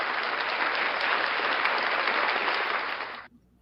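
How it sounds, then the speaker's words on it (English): Studio-style applause for Tiny the dog, a steady, dense wash of clapping from a group that holds evenly and then cuts off abruptly, leaving near silence. "Round of applause for Tiny, ladies and gentlemen"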